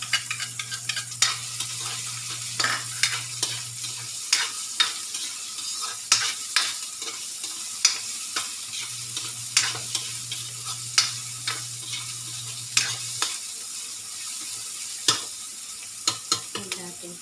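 Garlic and ginger fry in a pan, a steady sizzle with repeated sharp scrapes and clacks of stirring in an irregular rhythm, close and moderately loud, with a low steady hum beneath.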